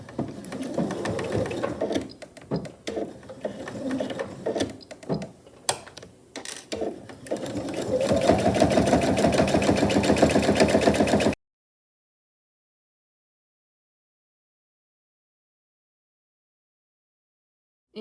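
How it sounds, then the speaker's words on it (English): A sewing machine stitches tote bag fabric, pinned outer panels sewn down both sides and across the bottom, in stop-start bursts that settle into a steady, close whirring run before cutting to silence. "I'll sew down both sides and across the bottom."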